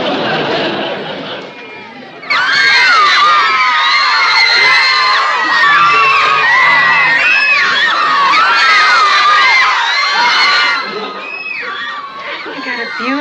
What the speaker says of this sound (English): How can you tell with all that screaming?